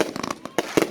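Fireworks from an 83-shot XL UV aerial finale cake fire a mine effect, giving a string of sharp crackling bursts with two louder, fuller bangs near the end, heard close and outdoors.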